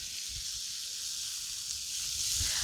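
Shrimp, peeled and deveined with tails left on, sizzle in a hot pan for barbecue mango shrimp, a steady bright hiss with faint low bumps, no voices.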